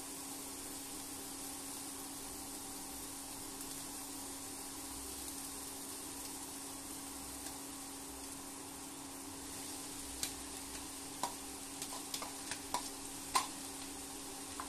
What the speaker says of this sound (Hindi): अब इसमें ग्रेटेड पनीर डाल देंगे।